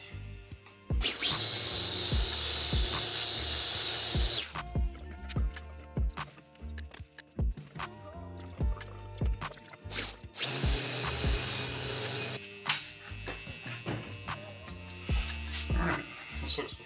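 A car polisher runs against a painted panel with Last Cut Plus, a high-speed diminishing abrasive compound, on faded clear coat. It whirs loudly in two long bursts separated by quieter handling noises and clicks.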